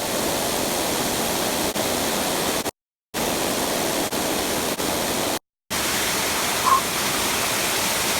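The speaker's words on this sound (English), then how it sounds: "time for a bit of a dip in this waterfall while it's flowing so nicely" Waterfall flowing strongly at a gorge swimming spot, a constant broadband rush of falling water, loud and steady, broken by two brief complete dropouts.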